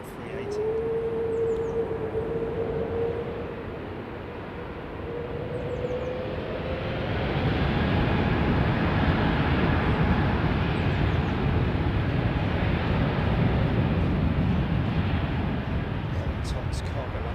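Cargo aircraft in 50-year anniversary livery passing overhead at London Heathrow Airport, a broad jet roar that builds and swells into a loud steady rush, with a voice talking over the start.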